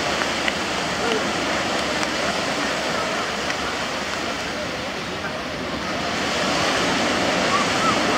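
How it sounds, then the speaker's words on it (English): Surf rolls in at a beach in Sanur, Bali, during a cremation ceremony where ashes go to the sea, a steady broad wash of waves with wind buffeting the microphone and no clear break between swells. "as some waves coming in here"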